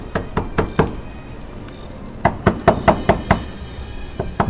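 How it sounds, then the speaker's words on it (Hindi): Sharp knocks on a door in quick bursts, first a few spaced raps, then a faster run of loud knocks, with brief quiet between. "फिर दरवाजा खड़खड़ाया।"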